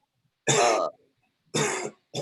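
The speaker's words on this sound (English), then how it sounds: "You got that dab cough." Two harsh coughs from inhaling a dab a second apart, close and loud, with a third starting at the end and silence between them.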